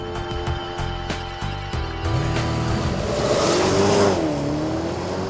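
A Porsche Panamera Turbo in Sport Plus mode accelerates hard, its engine rising in pitch through the revs with a brief shift, loud and close, with no voices.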